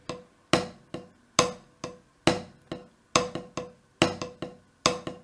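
A snare drum plays a check pattern and a paradiddle variation: crisp, evenly accented strokes in a steady rhythm with groups of quicker hits, close and clear with no talking.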